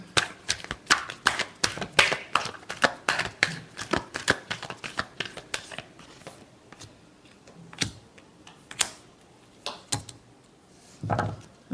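Tarot cards are shuffled by hand in quick, rhythmic slaps and riffles close to the listener, then slow into sparser, scattered taps and shuffles.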